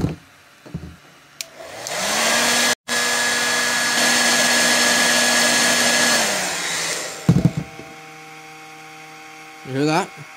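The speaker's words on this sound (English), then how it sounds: "The two fans back here, they go extra loud when you hear like an over temperature situation occur." Twin cooling fans in an Egretech Plume 300 portable power station spin up into a loud, steady whirring drone that holds for several seconds and then winds down, with brief handling clicks before and after.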